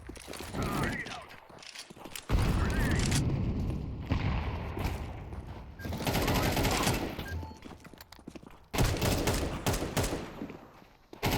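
In a shooter video game, a booming grenade blast and rapid bursts of gunfire break out in loud clusters, with a chaotic, crowded mix and some player voices in between.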